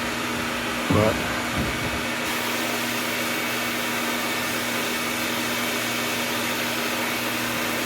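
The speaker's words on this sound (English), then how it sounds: "I know you're hearing all that stuff in the background from the vacuum." A vacuum runs steadily in the background during media blasting of dune buggy suspension parts, a loud, constant whining roar, with a single brief spoken word near the start.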